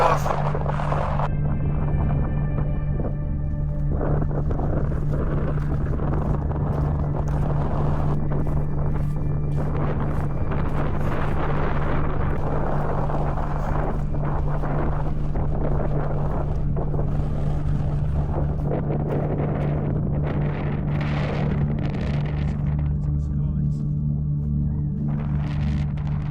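Strong wind buffets the microphone at an exposed Icelandic viewpoint, a loud continuous roar with gusty surges running the whole way through, along with a steady low hum.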